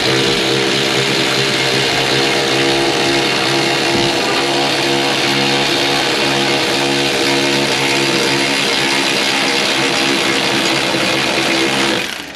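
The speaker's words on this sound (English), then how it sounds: "Just want to flip the ratchet so you could drive it in all the way" A ratchet drives a bolt into a coilover on a Lamborghini Huracán. A loud, close mechanical whir runs unbroken for about twelve seconds before cutting off abruptly.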